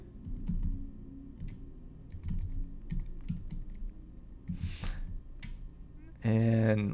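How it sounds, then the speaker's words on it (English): Rapid, uneven clicking of computer keyboard typing while programming a NativeScript Angular mobile app, fairly close and steady in bursts, with a brief voice entering near the end. "we'll say this dot connection type equals this dot connection to string."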